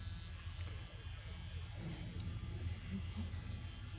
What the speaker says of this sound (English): So I was wondering if the motor, that noise I'm hearing is inside the gearbox or is it out here somewhere?